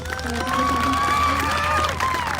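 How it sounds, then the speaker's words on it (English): A crowd at a Hawaiian and First Nations gathering cheers and claps together, with shouts and whoops rising over steady applause that carries on throughout. "Can we give them one more round of applause?"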